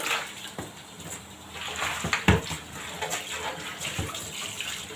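Refrigerator parts are rinsed under a running tap in a sink at home, with a steady close splash of water and occasional clunks and knocks of plastic pieces being handled.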